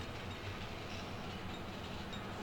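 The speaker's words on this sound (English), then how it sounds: "The passenger train's blocking its path." A passenger train rolls steadily through Railroad Tycoon II, its continuous low rumble with faint clatter holding at a constant level throughout.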